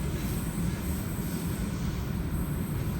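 Sydney Trains service arriving at the Domestic Airport station platform, a close, steady broadband rumble of wheels on rail with a faint high squeal, no voices.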